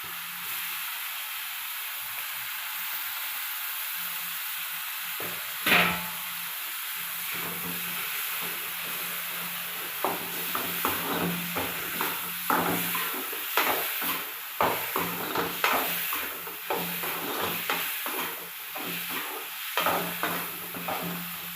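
Cleaned prawns fry in ginger garlic paste, giving a steady sizzle and hiss throughout. From midway, frequent scraping and clattering stirring strokes play over the sizzle.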